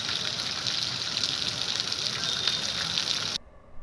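Rushing floodwater pours loudly through a low-lying part of Rajkot during cyclone Biparjoy rains, a dense, continuous hissing gush that cuts off abruptly near the end.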